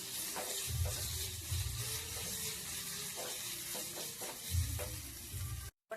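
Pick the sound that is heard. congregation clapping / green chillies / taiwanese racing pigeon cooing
green chillies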